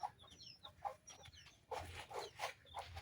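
A live desi chicken clucking softly at close range, with a string of short, throaty clucks that thicken into a busier run of calls in the second half.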